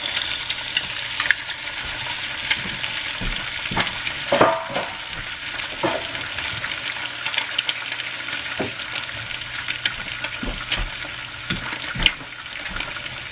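Two eggs frying in a pan while cooking tamales, giving a steady close sizzle with scattered spits and pops throughout, no talking.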